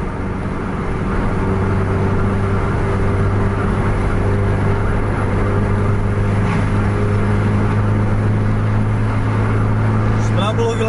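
A Mercedes-Benz bus on the Pandawa 87 Jakarta–Aceh run, heard on the road in Aceh, gives a loud, steady engine drone and road roar from start to finish with a deep sustained hum.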